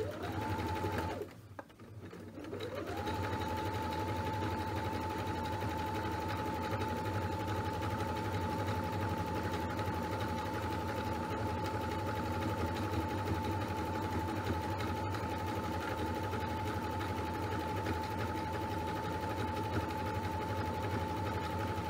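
A sewing machine runs steadily and loudly, zigzag stitching the edges of a cross stitch stocking, with a continuous motor hum and stitching rhythm after a brief pause near the start.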